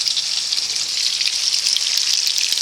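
Sausage meat frying in a skillet gives a dense, steady, crackling sizzle, close and fairly loud, unbroken throughout with no voices.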